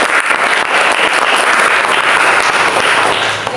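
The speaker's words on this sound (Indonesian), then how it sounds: "Oke, kasih tepuk tangan, Bang." Classroom students applauding together in a dense, steady burst of clapping that fills the room, close and loud with no talk over it.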